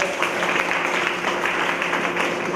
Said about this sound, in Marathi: जोरदार टाळ्या या भागात